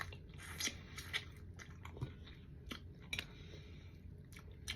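Someone bites and chews a tilapia fish head up close, giving quiet, intermittent crunchy snaps between softer wet chewing, with no talking heard.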